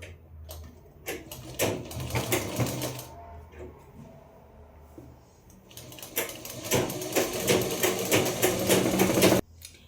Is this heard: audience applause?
no